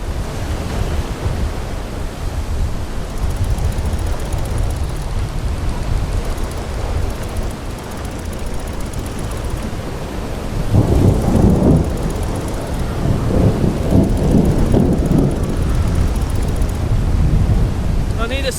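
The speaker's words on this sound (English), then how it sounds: "wind's too strong" Strong wind roars in a storm at sea while sailing a boat in the game Will: Follow the Light, a steady loud rushing of gusts and crashing water that swells louder partway through.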